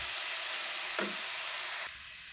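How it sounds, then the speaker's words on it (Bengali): Steamed papaya fries in a pan with a continuous close sizzle and hiss, broken by one brief scrape and a slight drop in level near the end. "দিয়ে এটাকে ভালো করে কিছুক্ষণ ভেজে নেব।"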